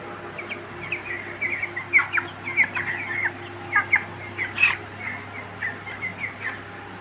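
Chickens in a 50-bird poultry battery cluck and cheep in scattered bursts throughout, fairly close, over a steady low background hum.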